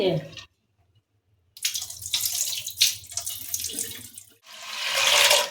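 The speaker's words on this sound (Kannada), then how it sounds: "ತೊಳೆದ್ಬಿಟ್ಟು ಎರಡು ಸಲ ತೊಳ್ಕೊಳ್ಳೋಣ ಬೇಳೆನ" Lentils being washed under a running kitchen tap: bursts of splashing water fill most of the clip, broken by a silent pause near the start, with the flow loud and close.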